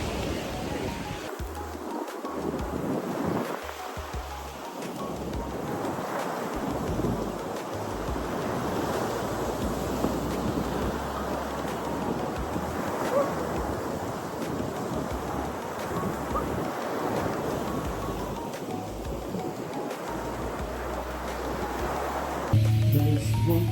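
Steady broadband wash of surf at Boracay beach, ocean waves rolling in continuously and fairly close, with gusty wind noise and no clear voices.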